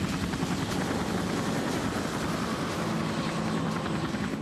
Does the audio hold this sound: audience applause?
no